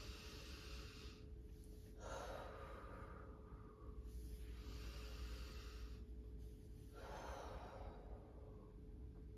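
Slow, deep meditation breaths come in three or four long, soft airy swells separated by quiet pauses over a low steady hum, close and faint.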